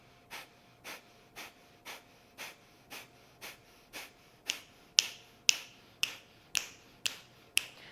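Rapid, forceful nasal exhales from a yoga breathing exercise, about sixteen sharp puffs at a steady quick rhythm, close and growing louder and harsher toward the end, with no talking.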